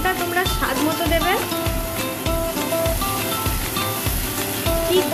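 Spice paste for a tapse fish curry sizzles and fries in a pan while it is stirred, a steady crackle with scraping strokes and a faint voice or music behind it.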